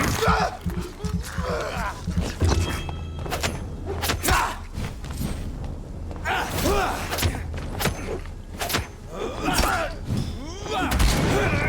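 Enemy pistol gunshots in the game Vampyr, a series of sharp, separate cracks spread irregularly through chaotic close combat with thuds, grunts and gasps, and a voice speaking intermittently.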